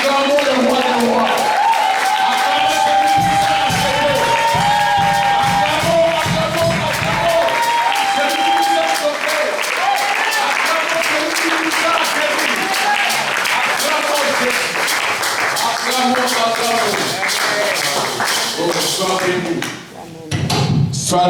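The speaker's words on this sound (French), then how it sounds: "Acclamons Jésus. Je dis acclamons Jésus" A church congregation cheers and applauds for Jesus during a worship service, with sustained loud clapping and crowd voices filling the room, the applause fading briefly near the end.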